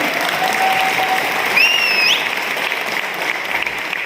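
Steady crowd clapping during an anniversary talk, dense and sustained, with a brief whistle-like tone sliding over it midway and no speech.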